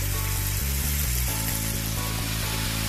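Ground beef and spices sizzle in a pan, a dense, loud, continuous hiss and crackle with a steady low hum underneath.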